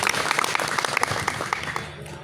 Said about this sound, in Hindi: मैं चाहता हूं इनका ज़ोरदार तालियों से एक बार सभी लोग स्वागत करें